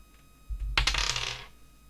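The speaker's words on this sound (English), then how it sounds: "The sound of those dice are terrifying." Tabletop dice roll during a Dungeons & Dragons game, a single short rattling clatter that is close and crisp, tumbling and fading out within about a second, with no other sounds.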